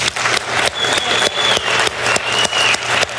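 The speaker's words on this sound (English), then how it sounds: "let's give him a round of applause for doing that" Keynote audience at a business conference claps for a speaker, a fairly loud burst of applause with rhythmic, pulsing clusters of claps and a faint whistle-like tone running through part of it.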